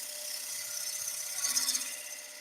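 A 3/8 inch bowl gouge taking a light finishing cut on wood spinning on a lathe, a thin high whirring hiss that holds steady and swells briefly near the end, fairly quiet and alone.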